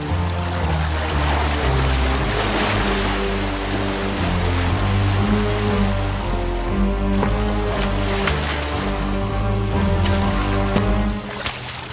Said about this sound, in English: this is Carl's Crossing on the East Alligator River